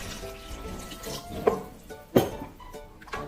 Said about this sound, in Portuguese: Vou colocar 1 xícara de água.